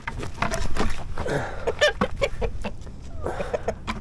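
A rooster clucks and squawks close by in quick agitated bursts in a chicken run, with rustling and movement around it.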